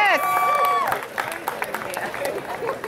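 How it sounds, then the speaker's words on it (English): Crowd clapping and cheering at a sports complex naming ceremony, a sustained wash of applause from many hands, with a voice over the start and chatter mixed in. "Clap for that."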